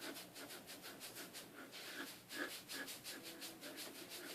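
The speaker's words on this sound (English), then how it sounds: "Rub it in all the way off your hands." Hands rubbing castor oil into straight hair and scalp, a soft rhythmic brushing swish repeating about twice a second, close but quiet, with no talking.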